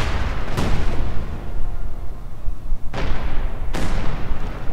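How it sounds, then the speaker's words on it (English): Booming artillery shots from an Su-76 barrage in Company of Heroes 2, three loud blasts spaced irregularly over a continuous rumbling battle bed, with no voices. "Once more barraging there from the Su-76."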